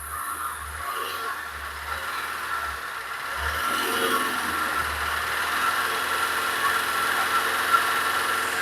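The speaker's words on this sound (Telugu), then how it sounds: "ఒకసారి ఇంజిన్ కూడా స్టార్ట్ చేసి మీకు చూపిస్తున్నాను," A 2010 Swift Dzire VDI diesel car idles close by with a steady, low, vibrating hum that thickens slightly partway through.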